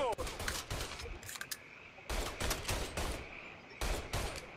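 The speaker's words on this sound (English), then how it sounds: "Who's shooting me?" Gunfire in the video game Mafia 3 comes as repeated loud, close bursts of shots, broken by brief pauses, with a faint voice now and then.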